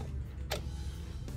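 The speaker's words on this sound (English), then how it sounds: "Gas door pops open." Push-button fuel door on a 2006 Harley-Davidson Electra Glide extended bagger springing open, a single short sharp click-pop followed by a fainter second click, close up against a steady low hum.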